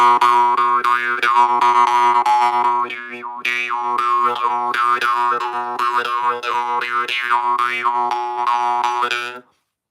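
A jaw harp twangs continuously as the player breathes in and out through it, a buzzing steady drone with a wavering, vowel-like overtone melody that rises and falls rhythmically, loud and close, before stopping abruptly.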